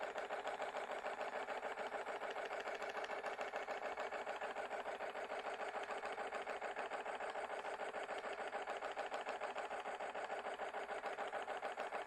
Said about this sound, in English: I'll do a little more spinning to show you.